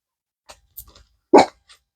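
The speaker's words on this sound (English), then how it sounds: "People have their dogs barking now around me." Dogs bark near a house, a loud single bark standing out among a few fainter, scattered yips and woofs, with no talking over them.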